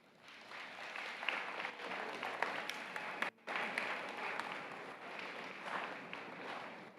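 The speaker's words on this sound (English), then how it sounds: "give them a round of applause" Graduating high school seniors at the Lakeland High School Class of 2024 commencement applaud their families, a steady wash of clapping from a large crowd filling the space, with a brief dropout partway through.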